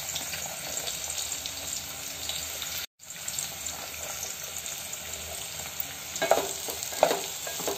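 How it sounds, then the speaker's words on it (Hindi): Onions hiss and sizzle in oil in a pan on a gas stove over medium-to-high flame, a continuous close frying noise with a brief dropout and a few louder stirring clatters near the end. "अब प्याज डाल दूंगी, प्याज को वॉश नहीं करना है और ऐसा खोल के डालना है आपको"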